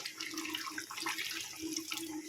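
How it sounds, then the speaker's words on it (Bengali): Water pours into a pot of cooking chicken curry with meat and potatoes, a steady, soft splashing stream heard alone throughout. "এবার একটু জল দিব হালকা করে ঝোল বেশি করব না অল্প ঝোল করব"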